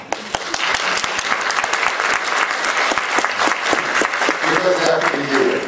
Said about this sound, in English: So please, a great applause for our teacher.